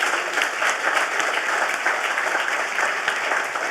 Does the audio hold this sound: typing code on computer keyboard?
no